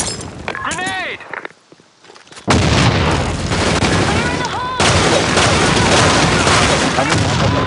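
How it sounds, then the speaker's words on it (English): A grenade blast and heavy gunfire from a shooter video game roar loud and dense for several seconds. Excited voices shout over the explosions and shots. "Fire in the hole! Grenade!"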